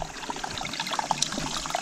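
Mountain snowmelt water flowing on a Himalayan pilgrimage trail, a steady trickling and babbling stream that stays close and moderately loud throughout, with small splashy bubbles over a continuous wash.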